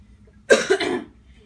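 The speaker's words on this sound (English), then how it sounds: "I have a cough" A single harsh cough up close, a sharp burst followed by a shorter rasping second push, then quiet.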